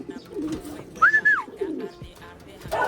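A racing pigeon gives a single clear coo near the middle, set against soft background murmur and rustling in a loft, fairly close and moderately loud.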